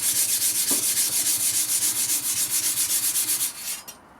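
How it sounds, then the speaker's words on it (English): Scythe blade rubbed to remove rust and dried vegetation residue, a brisk regular back-and-forth scraping stroke, close and fairly loud, ending with a final couple of strokes. "just give them a shine up. Takes off rust, takes off all that residue from the vegetation when you're cutting it."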